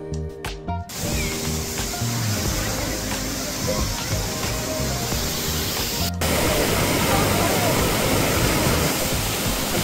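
Caunayan Waterfalls in Baler, Aurora roars with a constant, dense rush of falling water, loud and close. Brief voices and splashes come at the start, and the water grows slightly louder after a short cut.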